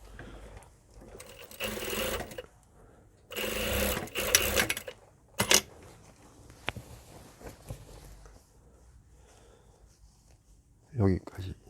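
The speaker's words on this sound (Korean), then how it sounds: "이쪽을 박음질을 해야 됩니다" An industrial sewing machine stitches the vent on a suit jacket sleeve in short bursts, starting and stopping several times, with a person talking between the runs.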